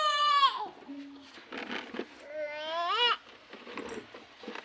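Two drawn-out, wavering bleats from a nearby goat, separated by a short pause, with light background clatter in between.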